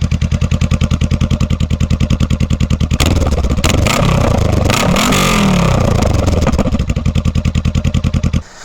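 A Honda Rebel motorcycle fitted with a Shorty GP exhaust, recorded right beside the exhaust: a very loud, rapid chugging idle that surges into a roaring rev for several seconds, then drops back to the pulsing idle before cutting out.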